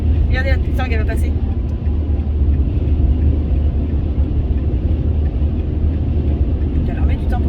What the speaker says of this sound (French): Regardez la Mustang, elle va passer.